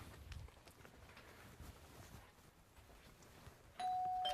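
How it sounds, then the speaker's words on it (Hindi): A doorbell chimes once near the end, a clear electronic tone ringing out over quiet room noise and a few soft footsteps. "मैंने घंटी बजा दी है"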